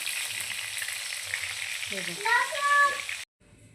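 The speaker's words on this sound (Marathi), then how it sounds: "अशा प्रकारे आपण छान वांगे असे तेलात तळून घेतलेले आहे" Brinjal (eggplant) pieces sizzle steadily in hot oil for a Maharashtrian vangyachi bhaji, a continuous crackling fry with a few sharper spatters near the end before it cuts off abruptly.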